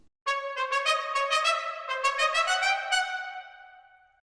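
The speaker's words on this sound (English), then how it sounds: "I've written a part for the trumpets" Orchestral trumpets voiced in close harmony play a short phrase of sustained, bright chords with several re-attacked notes, heard alone and fairly loud before the final chord rings out and fades.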